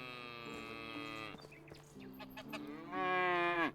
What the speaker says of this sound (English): Oh, we've got cows in here.